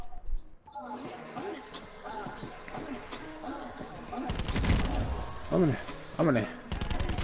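Rapid bursts of video game gunfire crackle in the battle-royale circle, loud clustered volleys in the second half under steady talk and excited chatter from players.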